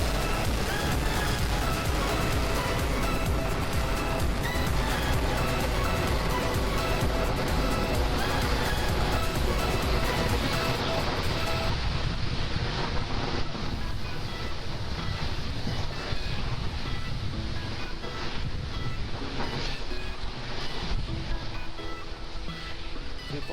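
A SpaceX Falcon 9 with Merlin 1D engines lifts off carrying the ANASIS II satellite for South Korea, a continuous loud broadband roar that rumbles on for over twenty seconds, dulling slightly partway through.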